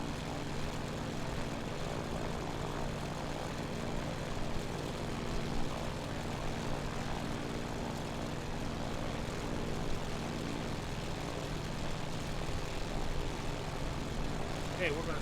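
A Grumman Wildcat's propeller engine drones steadily through a flight simulator during carrier practice near Honolulu, a continuous even hum with no breaks that runs the whole time while a voice talks over it.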